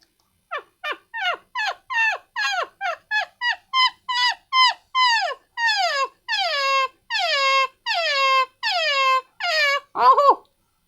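A human voice imitates a puppy barking with a close, rapid string of about twenty high, squeaky yips and whines, ending in a louder yelp, with no other sounds.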